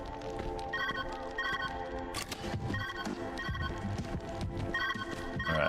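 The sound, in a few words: telephone ringing in a video game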